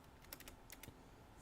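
Computer keyboard typing in quick, quiet bursts of a few key clicks, faint and close, with no talking.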